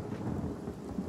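Rain and thunder from a spell effect in the video game Divinity: Original Sin: a brief, quiet wash of steady rain over a low rumble, heard alone.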